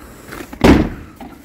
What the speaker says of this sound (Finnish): Laitetaan ovi kiinni perässä.